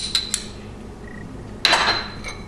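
Turkey bacon and onions go into a bowl with a few light clinks of a utensil against the dish, then a louder scraping clatter, all close and brief.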